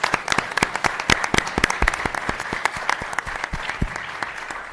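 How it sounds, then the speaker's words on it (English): A conference audience at a law event gives a round of applause for veterans, with dense, loud clapping that holds steady for several seconds before thinning slightly toward the end. "just wanted to give a round of applause for all our veterans in the audience"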